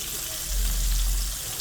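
Constant hissing sizzle of fish frying in hot oil in a pan, close and steady, with a low rumble swelling briefly in the middle.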